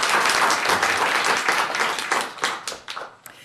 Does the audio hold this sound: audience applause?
yes